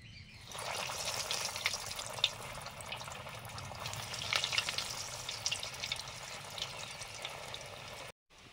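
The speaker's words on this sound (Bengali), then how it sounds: "ভেজিটেবল চপগুলো আগে ভাজছি।" Vegetable chops fry in hot oil with a steady, close crackling sizzle and scattered sharp pops, running almost the whole time before cutting off abruptly near the end.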